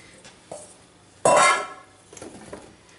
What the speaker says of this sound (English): We're going to empty the strawberries straight into the pot.